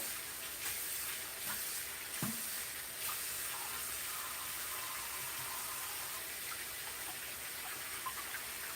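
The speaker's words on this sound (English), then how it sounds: "I'm going to clean out the sink here first." Water runs steadily from a tap into a sink while it is being cleaned out, a faint, continuous wash of splashing noise with no voices.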